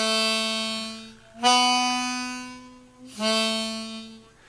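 Harmonica played on hole 1, a long blow note followed by a draw note and another blow, each sustained tone rich in overtones and playing alone, close and clear.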